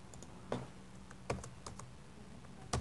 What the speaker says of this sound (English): I will type in whatever